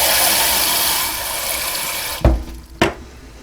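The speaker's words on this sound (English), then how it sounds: "I'm going to add another cup of water" A cup of water is poured into a pressure cooker holding pasta and corned beef for mac and cheese, making a loud, continuous close gush of running water that stops abruptly, followed by two sharp knocks.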